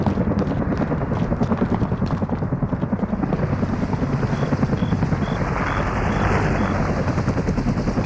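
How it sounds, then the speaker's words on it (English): Helicopter in Call of Duty: Modern Warfare (2019), a steady thudding rotor chop with dense low rumble, loud and continuous with no talk. "Can't see the chopper."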